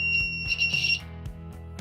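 A shrill electronic buzzer tone from a DIY steady-hand wire game sounds for about a second over a low pulsing hum, then stops.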